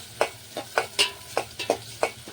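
Onions frying in hot oil, a faint background sizzle broken by seven or eight sharp, evenly spaced scraping strokes of a spoon stirring the pan up close.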